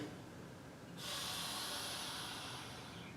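Faint steady hiss of air escaping from the rear hub of a Bendix brake booster on a 1969 Hemi Coronet, rising sharply about a second in and continuing as a soft, constant rush.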